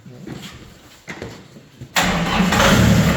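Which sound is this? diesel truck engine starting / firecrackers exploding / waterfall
diesel truck engine starting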